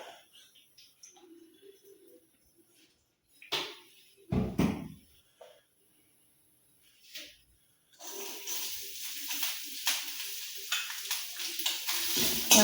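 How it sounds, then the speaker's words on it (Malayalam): Coconut pieces frying in a pan for unniyappam: a steady, fairly loud sizzle rises suddenly partway through and keeps going after a few earlier scattered clatters and knocks. "കാരപ്പത്തിലേക്ക് ഇടാൻ വേണ്ടിയിട്ട് തേങ്ങാക്കൊത്ത് വറുക്കാം"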